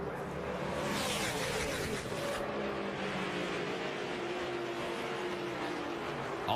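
Stock cars racing at Daytona under green flag during a 2010 NASCAR race, a loud, dense roar of engines howling past as the pack thunders by, continuous and heavy.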